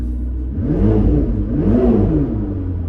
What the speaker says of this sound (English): So this is with the window up, and I'm going to rev it up.